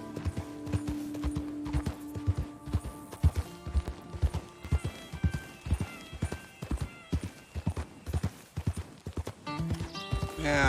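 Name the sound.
horse being broken in, video game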